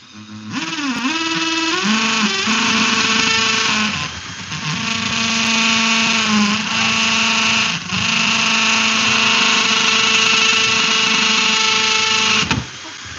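A power drill bores a hole into a new plastic cooler, whirring steadily at close range, pausing briefly and revving again, then winding down abruptly near the end.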